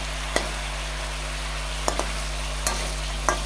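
Cauliflower florets and potatoes fry in oil in a pan with a steady, even sizzle, broken by a few sharp clicks and scrapes of stirring.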